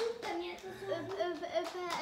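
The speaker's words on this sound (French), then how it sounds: "On applaudit." Children clapping their hands in a classroom, a few scattered claps mixed in with a voice and an adult's tonal speech that carry over them.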